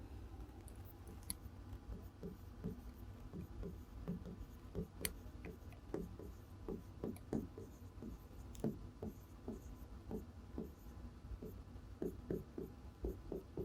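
Marker or chalk writing on a board during a Class 11 chemistry lesson: steady scratchy strokes and taps in irregular rhythm, close and moderately loud over a low room hum, with no talking.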